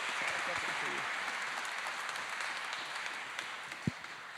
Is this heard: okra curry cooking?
no